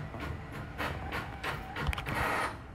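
A home printer runs with rhythmic mechanical whirs and creaks, several repeating feed passes at moderate volume with no talk.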